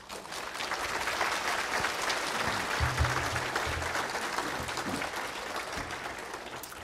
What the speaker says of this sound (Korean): 이제 닥터 할린저 나오실 때 여러분 큰 박수로 환영해 주시기 바랍니다